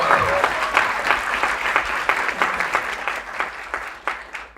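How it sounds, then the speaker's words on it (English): An audience at an iOS development demo day breaks into steady applause, dense overlapping claps sustained throughout with a few individual claps standing out near the end. "Yeah, you can clap for"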